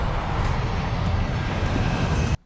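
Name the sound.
airplane engine in a TV show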